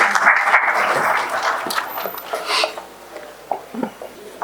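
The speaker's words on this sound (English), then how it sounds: "Let's have a huge round of applause for Shri Uday Raghunath Birje" An audience at an artificial intelligence symposium in India claps for an arriving speaker, a dense burst of applause that thins out and fades into scattered claps over a few seconds, with some voices underneath.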